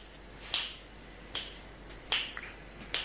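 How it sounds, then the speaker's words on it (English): Four crisp finger snaps ring out one at a time at an uneven pace, close and sharp, over a quiet room background. "Snap your fingers"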